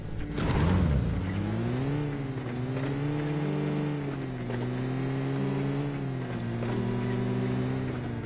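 A jeep engine driving in BGMI drones steadily at close range with a strong harmonic hum, revving up sharply at the start, then holding a sustained note with small pitch swells as it accelerates.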